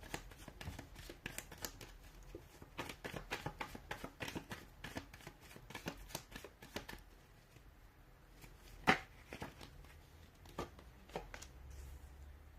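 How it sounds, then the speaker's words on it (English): Tarot cards being shuffled by hand, a run of quick soft riffling flicks and taps in close, quiet surroundings, with one sharper snap near the end before the shuffling fades. "give the cards a shuffle"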